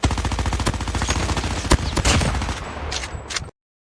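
Rapid automatic fire from an MX9 and Fennec submachine gun in Call of Duty Mobile, a loud steady stream of close gunshots that breaks into bursts before cutting off abruptly.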